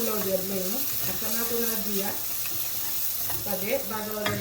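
Spice paste for chickpea pulao frying in a pan, with a steady sizzle and some stirring scrapes under a voice that speaks over much of it.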